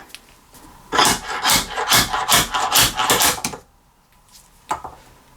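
A Laser 4044 slide hammer injector puller works a diesel injector free on a hydrolocked twin-engine tractor, giving a run of about a dozen sharp metallic knocks and scraping strikes, then a pause and two more close impacts.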